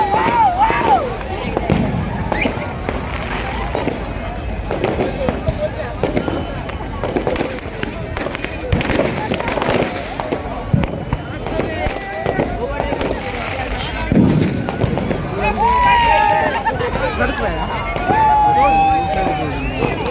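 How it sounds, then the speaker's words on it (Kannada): New Year fireworks and firecrackers at Colva Beach, Goa, pop and bang repeatedly from all around, some near and some distant, with whistling rockets and people talking throughout. "ನೋಡಿ 4 ಸುತ್ತಲಿಂದ ಪಟಾಕಿ"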